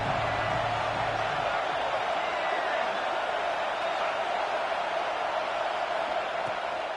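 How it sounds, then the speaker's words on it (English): Steady college football stadium crowd roar, a dense continuous wash of many voices heard at a distance throughout, with no distinct calls standing out. "This crowd bringing the energy and noise early."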